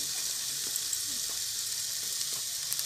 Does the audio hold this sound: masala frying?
yes